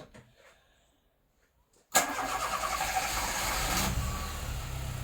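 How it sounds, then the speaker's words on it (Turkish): A Fiat Tipo 1.6 MPi car engine starts slowly: near silence, then a sudden catch as it fires at close range and settles into a steady, fairly loud idle. "Şu an araba çalıştı. Arabanın çalışma şekli bu."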